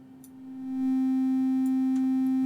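A sustained synthesizer tone from the Serum soft synth holds one steady pitch, rising in level over the first second, then staying clean, constant and loud until the end, with a few faint clicks and no voice.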